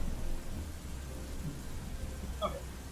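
Steady rain falls on a chilly day, a soft continuous hiss with a brief faint brighter sound near the end and no talk.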